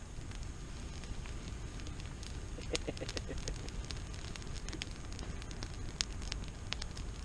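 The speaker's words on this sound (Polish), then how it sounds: "Języki ognia muskają kiełbachę." An outdoor campfire grilling sausage in a garden crackles and pops steadily with sharp irregular snaps over a constant low rumble of flames and wind, with no talking.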